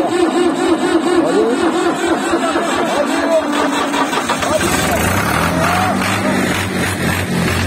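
A 1974 Fiat 540 tractor's diesel engine chugs and idles with a rough, steady knocking rumble, while voices talk over it close by; the exhaust is only a partial, half-length pipe.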